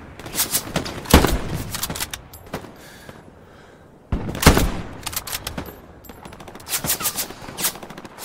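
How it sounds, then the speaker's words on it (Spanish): Repeated bursts of gunfire crack out in quick rattling volleys and single shots, some near and some distant, amid a busy soundscape in the video game Hell Let Loose. "Se oyen disparos por esa zona."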